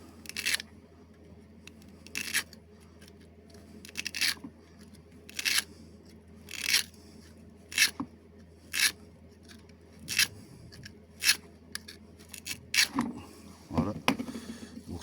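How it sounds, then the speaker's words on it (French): A utility knife slits the insulation of braided copper cable for scrap recovery, giving sharp, brief cutting and tearing snaps at irregular intervals, close and fairly loud, with someone speaking quietly between them. "Prenez votre cutter, hop. Vous venez faire une fente, vous faites gaffe vos doigts."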